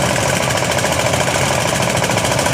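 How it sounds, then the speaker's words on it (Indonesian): Two-unit diesel engine on a traditional dogol fishing boat, a loud, constant rapid knocking chug with heavy vibration, close and unbroken throughout. "Perahu dogol menggunakan mesin diesel 2 unit."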